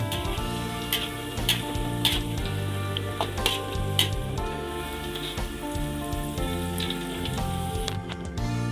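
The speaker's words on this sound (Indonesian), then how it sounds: "Kita goreng sampai sekitar setengah matang begitu" Potatoes frying in oil in a pan for sambal goreng kentang, a steady dense sizzle with crackling pops and occasional stirring clinks throughout, close and fairly loud, no voices.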